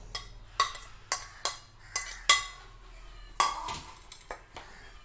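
A spoon clinks and scrapes against a bowl while orange pickle is handled, about ten sharp, separate taps spaced unevenly, close and clear with no talking.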